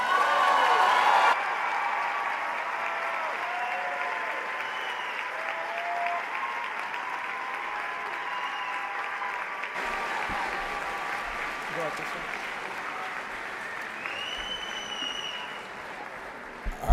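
Sustained applause from a large audience at a 2023 Percy Julian graduation ceremony, steady clapping for about seventeen seconds with a brief louder burst at the start and a few voices mixed in.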